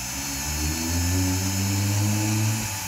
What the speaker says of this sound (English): I'm going to use a small drill just to make a bit of a hole dead in the centre